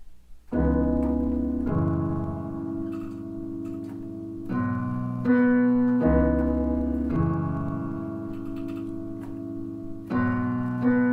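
Slow, sustained low piano chords from a song, each held for a second or more before shifting to the next, played alone and close.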